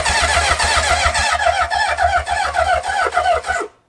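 A 1977 Honda CB750 chopper motorcycle engine cranks on its starter in a start attempt, a loud, steady rhythmic churning for about three and a half seconds that cuts off abruptly, with no talking.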